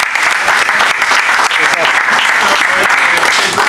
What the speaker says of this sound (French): on peut t'applaudir pour l'excellent travail que tu as réalisé